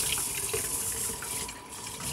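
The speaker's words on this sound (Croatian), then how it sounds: "Dodat ćemo vode, pola od ovoga što sam pripremila" Water pours steadily into a pot of stewing vegetables, a continuous close splashing rush like a running tap that lasts the whole moment with no talking.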